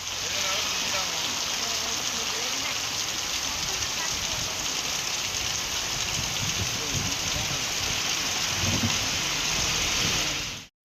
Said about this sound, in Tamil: நேற்றிரவு இடி மின்னலுடன் கனமழை கொட்டியது